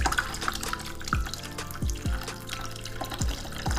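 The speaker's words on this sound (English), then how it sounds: "it says to add some water, so that's what I'm gonna do" Water pours into a pot for Korean army base stew, a close, gurgling splash with a few rhythmic glugs, as if from a bottle, over several seconds.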